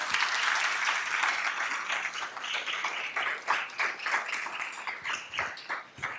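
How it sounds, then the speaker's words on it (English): Sustained applause from an audience at a scholarship awards presentation, a dense steady wash of many hands clapping that carries on for several seconds and thins slightly near the end. "Let's give everyone a round of applause"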